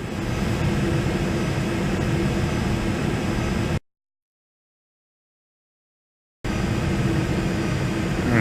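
A steady broadband engine and airflow roar from an airliner descending to land in a home-cockpit flight simulator, cut by a few seconds of total silence before the same drone resumes.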